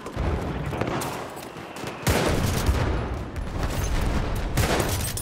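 Gunfire in a Battlefield 1 multiplayer match, including a no-scope sniper shot, crackles loudly through dense battle noise, with a sharp burst near the middle over continuous combat din.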